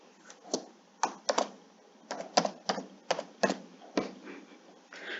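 Someone types on a computer keyboard, about a dozen crisp clicking key presses in irregular clusters, close and clear, with quiet pauses between them.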